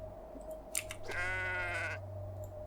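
A goat in the video game Kenshi gives one clear, wavering bleat of about a second, close and moderately loud, after a few soft clicks. A low steady hum runs underneath.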